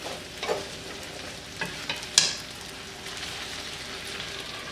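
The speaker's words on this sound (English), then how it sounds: "Mix it around." Pork and vegetables seasoned with pepper sizzle in a pan as a spoon stirs them around, with a steady fry hiss broken by a few sharp scraping clinks, with no talking.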